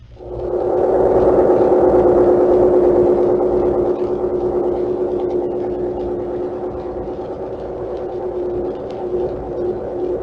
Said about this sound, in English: Here's a submarine at close range charging its batteries.